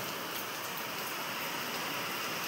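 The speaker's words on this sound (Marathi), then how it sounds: "पाऊस तर चालूच झाला बघा" Steady rain falls outdoors in a continuous, even hiss of drops on surfaces, moderately loud and close, with no voices.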